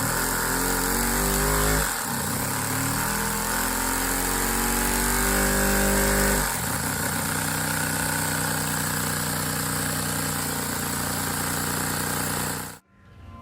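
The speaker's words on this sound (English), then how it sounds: "The transmission, on the other hand, I kept and strapped to a Performance 1 cylinder, which revs real fast." A fast-revving Performance 1 cylinder engine drives a transmission, giving a loud, steady mechanical whine and buzz that shifts pitch partway through, then cuts off abruptly near the end.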